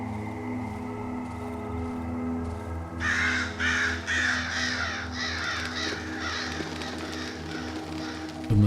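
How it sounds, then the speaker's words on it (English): Crows caw in the eerie woods of the Darkwood video game. A few harsh, rasping calls start partway through and repeat over a low, droning ambient background. "A murder of crows."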